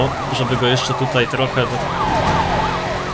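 A wailing police car siren in the Need for Speed Carbon racing game rises and falls repeatedly, loud and close, over engine noise while someone talks.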